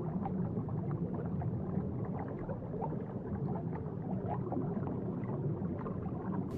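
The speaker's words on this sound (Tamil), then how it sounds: "இந்த நீலத்திமிங்கலம் தான் பூமியில வாழுற உயிரினங்களிலேயே ரொம்ப பெருசு." Low, rumbling blue whale calls drone steadily through an underwater ambience, faint and continuous with murky gurgling texture and no voices.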